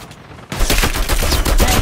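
Rapid automatic gunfire from a new gun in the mobile shooter game Call of Duty Mobile, a loud dense burst of shots starting abruptly after a brief quiet moment and continuing steadily to the end.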